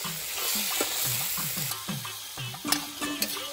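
Meat sizzles steadily while being stirred in a hot pan, with intermittent scraping and knocks of a spatula against the pan. The cooking is close, with no talk during this stretch.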